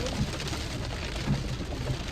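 Steady rain falling outdoors, a continuous moderate hiss of drops on surfaces with faint low rumbles underneath.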